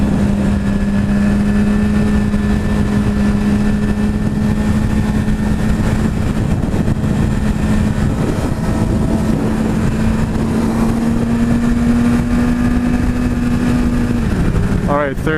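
2016 Suzuki Hayabusa motorcycle engine pulling in second gear onto a freeway, a loud steady drone that rises slowly in pitch over many seconds, then drops sharply at the end as if shifting.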